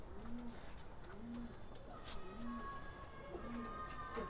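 Pigeons in a loft coo softly and repeatedly after feeding, low rhythmic calls at an even pace, fairly faint and close, with faint background hum.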